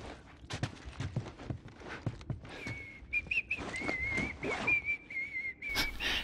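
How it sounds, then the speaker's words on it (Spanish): A character whistles a wavering tune in The Last of Us, on the flooded road, over footsteps and light movement, fairly close and moderately quiet. "pues vamos a silbar"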